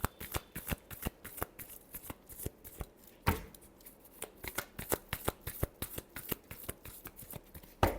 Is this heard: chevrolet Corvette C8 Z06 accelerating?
no